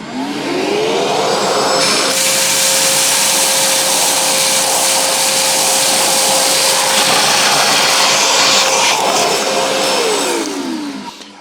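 A Parkside vacuum cleaner switches on and runs loud and steady for about nine seconds while sucking rice out of a cup, its whine holding constant before it shuts off.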